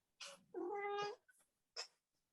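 A single drawn-out, rising-and-falling cat meow sounds in a quiet indoor room, bracketed by short breathy noises, with a brief second sound near the end.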